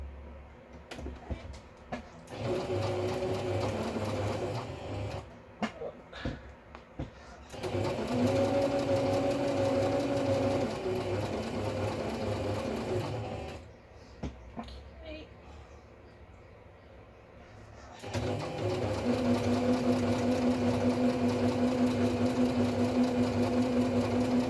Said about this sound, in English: now I'll just quickly sew this, see how this comes out